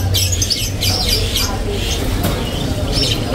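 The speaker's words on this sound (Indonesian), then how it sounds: "ini ada yang namanya burung kenari leopard gelap" A dark leopard canary at a bird seller's stock gives repeated high, squawky chirps and calls close by, over a steady low hum and busy background noise.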